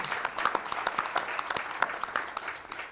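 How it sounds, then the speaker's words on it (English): Audience applause at a talk on connecting communities to 21st-century jobs, a steady patter of many hands clapping throughout, moderately loud and close, with no voices over it. "Boy, let's give a big round of applause."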